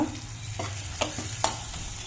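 Okra curry spices stirred in hot oil, a faint steady sizzle broken by a few soft spoon scrapes against the pan, close and quiet.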